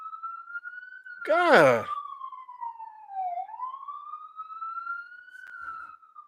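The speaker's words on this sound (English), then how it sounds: "shut the fuck up with that damn siren" A wailing emergency siren sweeps up and down in pitch, loud and steady throughout, with a brief voice breaking in near the start.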